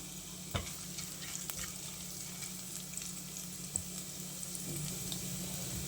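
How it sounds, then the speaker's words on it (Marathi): Whole spices and a bay leaf sizzle in hot oil for a mutton dish, a quiet, steady fry hiss with occasional soft ticks and a couple of sharper pops, and no talking. "आता यामध्ये आपण खडे मसाले घालूया आणि तेजपत्ता"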